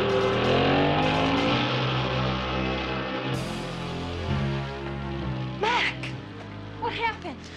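KITT, the Knight Rider car, starts up with computerized ignition and revs hard. The engine roar is close and loud, then falls and surges again, with brief voices mixed in near the end.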